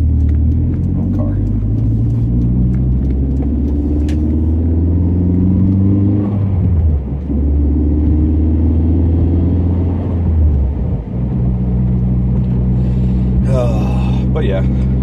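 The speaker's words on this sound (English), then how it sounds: "Oh, car." A car drives past on a foggy road, a steady engine rumble that swells and shifts as it goes by, with someone talking over it most of the time.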